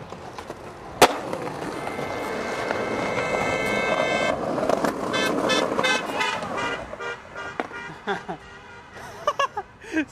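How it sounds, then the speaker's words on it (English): Car horn honks repeatedly in short bursts on a street while a skateboarder rolls along, the beeps standing out over steady rolling noise and traffic. "What's with all the honking?"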